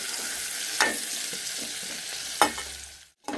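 Brinjal (eggplant) pieces fry with a steady broadband sizzle in a pan, and two sharp scraping stirs land about a second and a half apart. The frying stays in the foreground, no one speaks, and it cuts off abruptly at the end.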